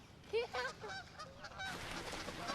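Geese or ducks honk repeatedly in the open, a cluster of loud calls early on, then fainter, busier honking and background noise.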